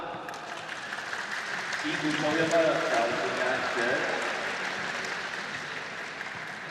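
Audience applause in the arena during a men's volleyball league match between Taipei Conti and Changhua Sanda Cable, a steady wash of clapping and cheering under a commentator's voice.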